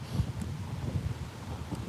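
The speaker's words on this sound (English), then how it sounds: "I'm sorry it's so windy" Wind buffeting a microphone outdoors, a low rumbling gusty roar that stays fairly steady over two seconds with no speech.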